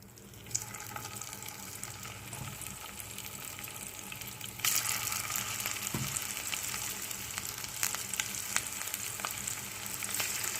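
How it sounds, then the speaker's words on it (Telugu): Cabbage pakodi frying in hot oil sizzles steadily at close range, growing louder partway through as more batter is dropped in, with faint clinks and no voices. "సో మళ్ళీ ఈ నూనెలోనే నేను మళ్ళీ వేసేసుకుంటాను."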